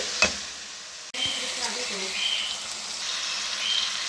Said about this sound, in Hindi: 2 मिनट हम ऐसे इसको भूनते जाएंगे।